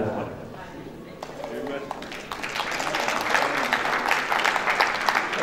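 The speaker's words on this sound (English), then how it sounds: "Let us give him a round of applause." Applause at a wedding reception, starting after a voice and swelling into sustained, dense clapping from a crowd that stays loud to the end.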